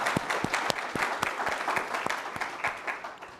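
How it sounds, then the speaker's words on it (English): Applause from an audience thanking a panel at a working session on nature-based solutions, a steady wash of many hands clapping with a few louder individual claps standing out, fairly close and continuous throughout. "Please give a round of applause to our panel"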